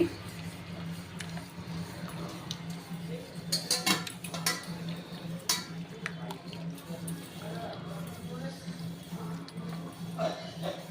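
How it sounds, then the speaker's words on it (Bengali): Chicken marinated with mustard oil and spices is squished and mixed by hand in a bowl, with soft wet squelches, clinks and knocks against the dish under a steady kitchen hum. "এগুলো আমি হাত দিয়ে মেখে ভালো করে ম্যারিনেট করে নিচ্ছি"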